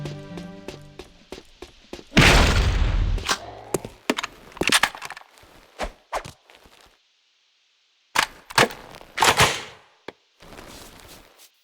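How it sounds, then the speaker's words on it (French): Blaster gun fire in the video game Jak 2, heard as a string of sharp, punchy shots and impacts in uneven bursts, with short quiet gaps between them and no voices. "Le blaster est un excellent choix avec une bonne vitesse de tir."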